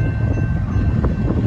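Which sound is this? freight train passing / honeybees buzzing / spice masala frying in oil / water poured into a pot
freight train passing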